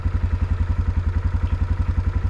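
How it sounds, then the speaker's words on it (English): Farm tractor used to pull a hay baler runs with a steady, rapid low throbbing chug, close and loud, its engine pulses evenly repeating without any talk. "I'm simply the one that drives this tractor, pulling the baler when baling hay."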